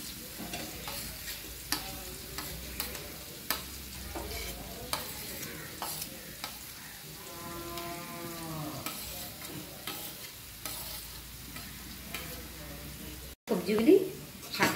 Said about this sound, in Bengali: এখন একে একে আমি সবজিগুলো মিশিয়ে দেব।